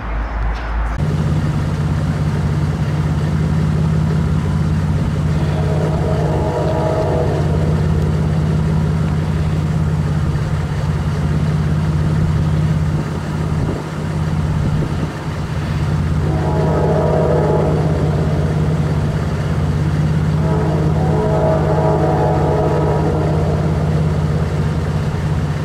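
A westbound intermodal freight train passes in falling snow at Markelton, Pennsylvania, producing a loud, steady rumble and droning engine hum across the whole span, with rolling wheel and car noise swelling and fading at intervals.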